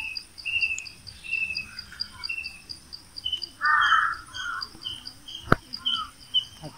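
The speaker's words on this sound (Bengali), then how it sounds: "পাখির কণ্ঠে কি সুমধুর" Crickets trill steadily on Nilachal hill at Kotbari, Cumilla, while birds chirp and sing in short repeated calls, with one louder nearby call midway and a sharp knock near the end.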